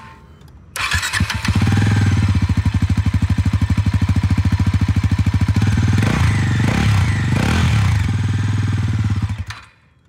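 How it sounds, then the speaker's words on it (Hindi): A Bajaj Pulsar NS 400Z motorcycle engine starts, settles into a loud, heavy, bassy idle with a steady rapid thump and a few throttle blips, then shuts off and goes quiet. "अब एक बार थोड़ा सा एग्जॉस्ट नोट सुना देता हूँ दोनों बाइक्स का"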